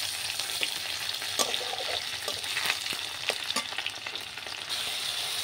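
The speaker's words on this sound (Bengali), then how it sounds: "এবার আমি শুটকি মাছটা ছেড়ে দেব।" Dried fish hisses and crackles in hot oil with fried onions, a continuous loud sizzle with scattered pops and spatters, close up and without any talking.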